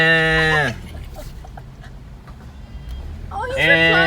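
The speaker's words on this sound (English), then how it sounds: "I don't know how that goat got inside." A goat indoors on Bequia gives two loud, close wavering bleats, one at the start and one at the end, separated by a quiet stretch of room noise.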